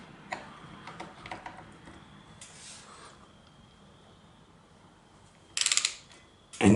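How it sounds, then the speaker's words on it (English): On a 2001 Yamaha Kodiak ATV, a regular ratchet turns an oil filter wrench with a few soft, close clicks, quiet against a low background hum before some louder clatter near the end. "you need a regular ratchet for the oil filter wrench"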